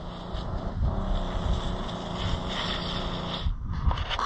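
A spot sprayer pump runs as a steady, broad mechanical whir with a noisy spray hiss, loud and close, holding constant for several seconds with a brief dip near the end.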